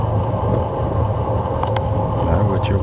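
Steady road traffic of cars and coaches rumbling close by as a cyclist overtakes them on a sunny commute between Aubervilliers and Colonel Fabien, with a continuous low engine drone and a few brief higher-pitched passing noises near the end.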